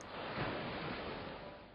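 Rough Atlantic Ocean waves at sea after a storm, a dense, steady roar of surging water, loud and continuous with no voices.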